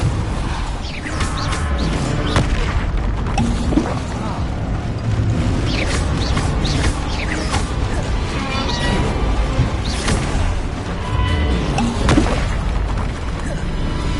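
Explosive spells cast in Hogwarts Legacy, a dense, loud run of booms, bursts and crashing impacts that keep overlapping without a pause, with a voice occasionally audible beneath the blasts.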